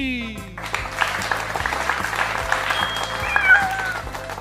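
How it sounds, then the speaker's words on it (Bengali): A cartoon crowd claps loudly all together in a dense burst of applause. A steady pulsing musical tone and a few high squealing cries sound along with it. "সবাই একসাথে জোরে হাততালি দে"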